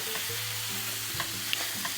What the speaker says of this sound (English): So I'm just frying it in this pan